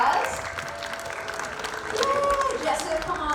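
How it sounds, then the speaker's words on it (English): Audience applause for a volunteer called up at a theme-park special effects show, a dense steady wash of clapping from a sizable crowd with a few cheers and whistles rising through it. "Give her another big round of applause."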